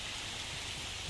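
Steady rain patters evenly on a surface in a rural Odia home, a soft continuous hiss with faint low drops and no voices.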